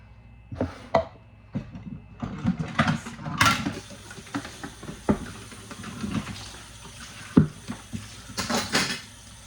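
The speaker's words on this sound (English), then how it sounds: "so gotta do dishes right now" Dishes being washed by hand: irregular clinks and clatters of plates, pots and cutlery knocking together, with faint running water hiss between the sharper hits, close by.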